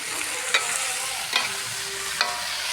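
Beans stir-fried with oil and spices at an outdoor picnic, a continuous loud sizzle broken by a few sharp scrapes of a spatula against the pan.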